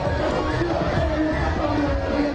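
A massive crowd accompanying Ghanaian politician Nana Addo Dankwa Akufo-Addo fills the air with a steady, moderately loud murmur of many voices and general hubbub, with no single voice standing out.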